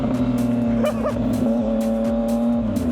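A Yamaha MT-09 motorcycle, already warm, revving and accelerating with a loud steady engine drone and rising pitch sweeps as it pulls away, close and continuous.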